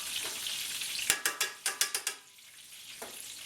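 Chicken pieces for chicken parmesan brown in a frying pan with a soft, continuous sizzle. A quick run of about seven sharp metallic clanks from utensil against pan follows, then the frying settles quieter.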